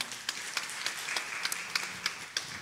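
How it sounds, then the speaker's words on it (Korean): Congregation at a Wednesday church service clapping in a light, scattered rhythm, with sharp individual claps spaced through the moment, fairly faint and somewhat distant. "박수 한번 치세요."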